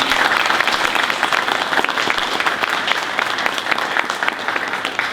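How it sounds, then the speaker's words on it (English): Sustained, dense applause from an audience at the grand opening of the Poole's Mill school facility in July 2020, steady and full for the whole stretch with no talking over it. "a huge round of applause for all of their work"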